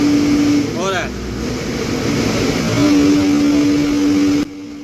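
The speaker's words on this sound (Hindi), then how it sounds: "अब इसको हम फुल रेस करके चेक कर ले रहे हैं कि अब सही से हमारी मशीन रेस हो रही है या नहीं हो रही है" A JCB excavator diesel engine revved at full throttle, a steady loud drone with a sustained tone that holds until it cuts off near the end, with a brief whine early on.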